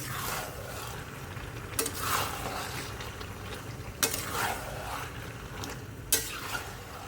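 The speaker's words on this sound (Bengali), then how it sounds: "আস্তে আস্তে কষাই এবার।" Meat sautéed with spices in a pan, a low steady sizzle with three sharp scraping strokes of a spoon against the metal spaced about two seconds apart, close and moderately loud.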